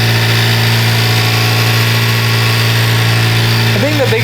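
A 2024 Honda Civic engine fitted with a PRL high volume intake idles steadily and close up, a constant drone with a brief rising rev near the end.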